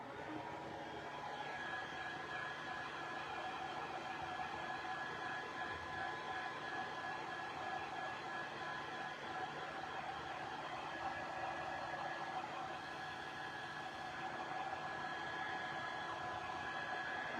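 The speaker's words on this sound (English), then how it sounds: "I'm going to try to dry it on low." Electric hair dryer on low heat, used to dry an oversized DIY ornament: a steady, continuous whooshing blow with a faint motor whine, close and unbroken throughout, with no speech.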